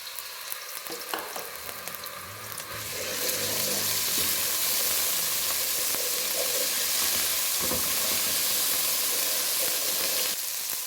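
Ginger garlic paste hits hot oil with a burst of loud sizzling that settles into steady, hissing frying with occasional stirring scrapes.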